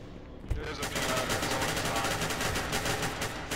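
Rapid automatic gunfire from the shooter game SCP: Secret Laboratory, a loud, steady stream of closely spaced shots that starts after a brief thump and rattles on without pause for about three seconds, with faint voices underneath.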